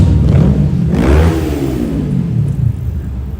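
A motorcycle revs hard and roars past at a 9/11 memorial, the engine note climbing loudly then sweeping down in pitch as it moves away, with a steady traffic rumble continuing afterward.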